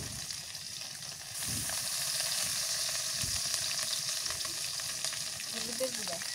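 Spice pastes with coriander paste sizzle in oil. The frying grows louder after a second, with faint stirring scrapes toward the end.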